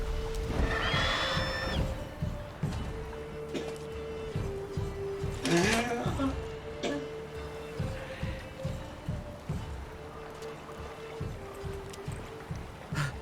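A horse whinnies loudly once, then again more briefly, over a steady rhythmic thudding in the background, in the video game The Witcher 3.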